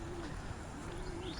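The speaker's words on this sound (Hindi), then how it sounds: "अब एक बार गंगा के पास जाते हैं और थोड़ा रिलैक्स होते हैं उनकी आवाज़ में," Doves cooing softly beside the Ganges, a few repeated low coos rising over a steady broadband background of flowing water and ambient noise, no voices.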